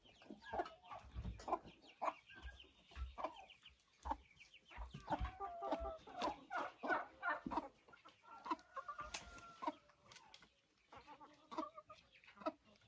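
A hen clucks inside a chicken coop among her chicks, with quiet, close, irregular clucks and brief higher peeps scattered across a calm, otherwise still space.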